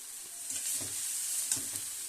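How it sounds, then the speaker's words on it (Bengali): Noodles stir-frying in a wok: a constant hiss of sizzling oil with soft scraping and tossing sounds from a spatula, fairly quiet and close. "এই যে এবারে চাউমিন নাড়া হচ্ছে তেলটাকে মাখানো হচ্ছে ভাজা হচ্ছে"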